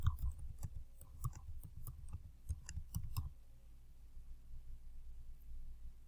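Rapid clicking of computer keyboard keys as an email address is typed, a quick irregular run of close, faint clicks lasting about three seconds before the room falls quiet.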